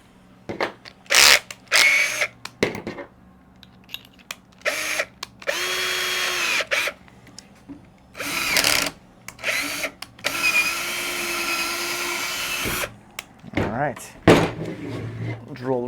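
A power drill bores through angle iron while building a no-till crop crimper, in a string of short bursts and a few longer runs of whining motor, with quiet gaps and brief speech between them.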